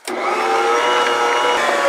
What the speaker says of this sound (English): we're going to turn it up to 2 and we're going to let it knead for 5 minutes